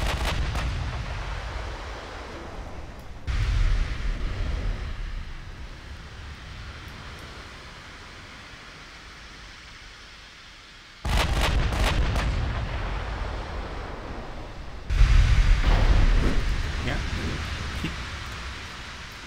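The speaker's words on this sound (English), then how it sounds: "Those 16-inch super heavy shells have managed to cause some mortar ingress." Heavy battleship guns fire 16-inch and 18-inch shells in a Yamato versus Iowa naval battle in Ultimate Admiral Dreadnoughts, with deep booming salvos and rumbling blasts that break out abruptly over a low background roar.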